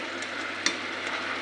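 Onions being stirred in a pan while beef steak cooks, a steady soft sizzle with faint scraping and one sharp utensil tick, close and continuous with no talking.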